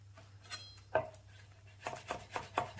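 A knife on a cutting board shreds rolled mint and grape leaves for stuffed grape leaves, a few soft isolated chops followed by a quicker run of crisp, rhythmic cuts, close and fairly quiet.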